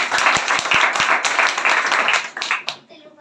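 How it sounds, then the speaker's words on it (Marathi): A room of village schoolchildren clapping loudly for a student, steady and dense for nearly three seconds with a few sharp individual claps standing out, then tapering off abruptly. "जोरदार टाळी"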